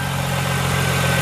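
A 2001 Chrysler Prowler engine runs at a steady idle, a loud, even mechanical drone heard close up without voices.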